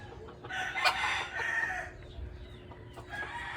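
A rooster crows loudly nearby, followed by more crowing and scattered clucks from other fowl, including a labuyo (red junglefowl), with no talking.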